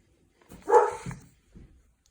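Pet dogs at home give one short bark followed by a softer, brief yip, close by and otherwise quiet.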